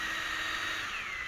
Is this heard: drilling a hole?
yes